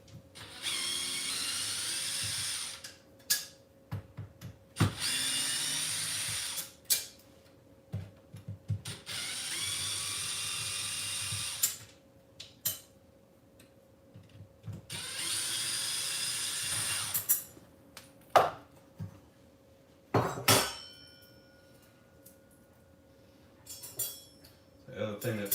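Hand tools work on an XMaxx RC truck's aluminum front skid plate, giving intermittent clicks and ratcheting bursts with short whirring runs and pauses between them, close by and fairly loud.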